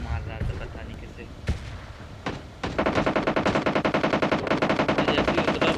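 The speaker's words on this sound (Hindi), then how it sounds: "जैसे वैसे ही फायर की आवाज़ आती है" Automatic weapon fire in a solo-versus-duo battle royale shooter match near a stadium: a few scattered shots, then a steady rapid burst of loud gunfire over the last half, with faint talk underneath early on.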